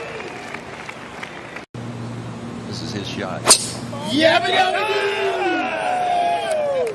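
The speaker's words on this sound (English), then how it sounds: "Listen to this crowd." A golf gallery at the 2024 U.S. Open roars and cheers, swelling after a sharp strike into a loud, sustained crowd noise under a commentator's voice.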